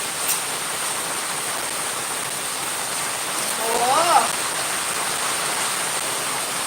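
Steady hiss of rain falling, constant and fairly loud, with a brief voice-like sound rising faintly partway through.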